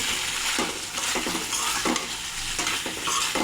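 Chicken curry with ground spices being sautéed and stirred in a covered pot, a steady loud sizzle with periodic scraping stirs, close up and with no talking.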